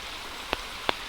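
Steady rain falling in Wissahickon Valley Park in Philadelphia, a soft even hiss with two sharper drips or taps standing out briefly against it.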